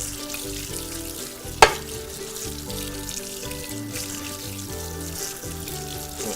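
Two cans of beans are rinsed under running tap water, giving a continuous close hiss and splash, with a single sharp knock partway through.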